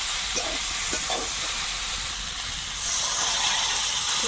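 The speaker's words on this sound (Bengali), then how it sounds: "এইবারে কাঁচা লঙ্কা আর টমেটো ভালো করে কষিয়ে নিয়েছি এখন জল দেবো" Water poured into a pan of fried green chilies and tomato gives a loud, steady hiss and sizzle that swells slightly toward the end.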